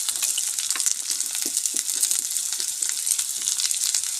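Green beans tossed into vegetables frying in a pan for noodles give a continuous bright sizzle with small crackles and stirring scrapes, close and steady.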